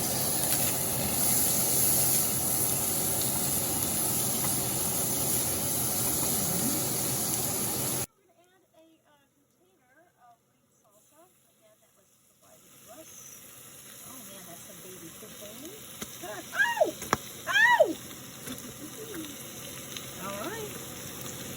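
Butter sizzles in a frying pan while a home-cooked frijoles fresca bowl is made, a loud steady hiss for about eight seconds that cuts off abruptly, followed by quieter kitchen sounds with a few brief sharp bursts.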